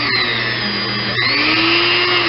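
A 320 grit Scotch-Brite pad scrubs grime off a Singer 127 sewing machine, a steady loud abrasive rasp with a constant hum beneath, pausing briefly twice before the scrubbing resumes.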